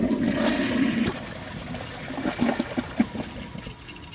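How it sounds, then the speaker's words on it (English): A 2012 Jacuzzi Perfecta toilet flushes with a rushing gush of water that fades into gurgles and trickling as the bowl refills, heard close up and alone. "So I'm going to give it another flush and see if it can take the rest of this stuff down."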